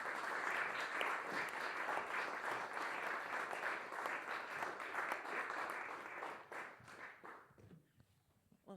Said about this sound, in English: So let's give a big round of applause for Professor Edith Hall.